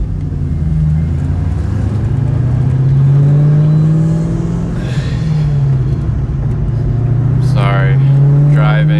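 Steady, loud engine hum and road rumble fill the cabin of a moving car, running continuously beneath someone talking the whole time.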